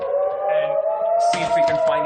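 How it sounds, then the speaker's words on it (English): Civil defense air raid sirens wail over an urban area, a steady rising tone sounding continuously throughout while someone talks over it and other noise joins partway through. "you can hear the air raid sirens going in"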